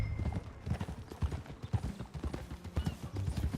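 Steady clip-clop of horse hooves in a brisk, even rhythm, fairly close, with no talking over it, in Red Dead Redemption 2.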